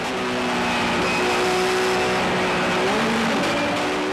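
A Conrad Porsche race car with a suspected clutch or transmission fault, heard at the 24H Dubai 2008 endurance race: a loud, steady engine drone with wavering tones that shift and dip toward the end, no talk.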